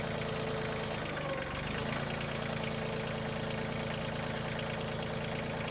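A tractor engine idles steadily and fairly close while a tote is lifted and tilted forward in a wooded area, its low continuous rumble carrying through with no one talking.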